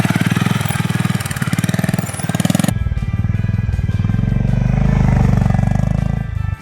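Honda H'ness CB350 motorcycle riding with a pillion passenger, a loud, steady thumping engine pulse that carries on under heavy wind rush. No one speaks.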